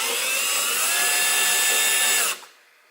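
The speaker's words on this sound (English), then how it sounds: "we finally have access to the actual feet of the wing, so we're going to remove these screws next." A power tool whirs steadily while backing screws out of the rear wing feet on a Lamborghini Gallardo Superleggera. The close, continuous high whine runs for about two seconds and then cuts off abruptly.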